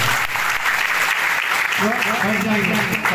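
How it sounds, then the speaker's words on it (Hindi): Congregation clapping loudly at a prayer meeting in a church, a steady burst of applause with a voice speaking over it toward the end. "उनके लिए जोरदार ताली बजाएं।"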